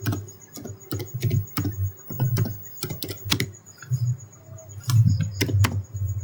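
Computer keyboard typing in bursts of clicky keystrokes, commands entered while configuring Cisco network switch ports, fairly close and clear with short pauses between words and no talking.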